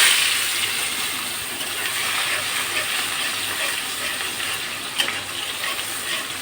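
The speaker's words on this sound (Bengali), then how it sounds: "পেঁয়াজটা একটু বেরেস্তা মতন করব, ভেজে নিই পেঁয়াজটা" Onions fry in oil in a pan, a continuous loud sizzling hiss with occasional crackles and a sharp clink, steady from start to finish.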